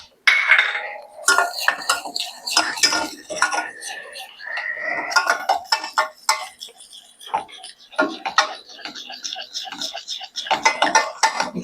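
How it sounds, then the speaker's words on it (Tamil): A whisk beats cocoa powder into water in a bowl for a chocolate mud cake, making rapid, irregular metallic clinks and scrapes up close in quick bursts, with faint voices at times. "இப்போ விஸ்க் வச்சு நல்லா மிக்ஸ் பண்ணிக்கலாம்"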